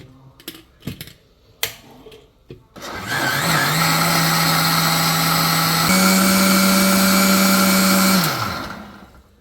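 A mixer grinder blends a Thrissur-style Vishu katta mixture with three cups of water. A few clicks come first, then the motor whirs loudly and steadily for about five seconds before winding down.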